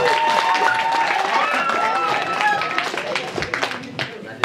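Audience clapping and cheering at a school show, a dense wash of applause with excited voices and whistles mixed in, close and fairly loud throughout.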